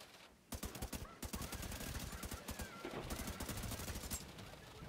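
Rapid bursts of gunfire crackle in The Division 2, a video game shootout, with dense overlapping shots running almost continuously at moderate loudness after a brief quiet start.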